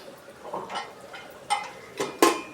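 A few metallic clinks and clatters of a lid settling onto a pot of Kerala-style mutton curry, close by, with quiet kitchen background between the knocks.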